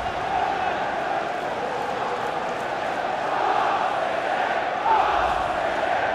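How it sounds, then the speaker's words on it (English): Stadium crowd in the FIFA 15 football game on Xbox One, a steady dense roar of massed voices that swells slightly toward the end, with no distinct chants standing out. "I think the crowd, by the sound of it, quite happy to see the back of him"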